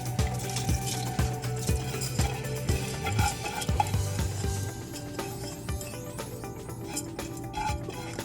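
Soaked basmati rice tipped into a pot for chicken biryani, giving a soft wet pour and stirring scrape over a low sizzle, with a few sharp clinks of a utensil against the pot.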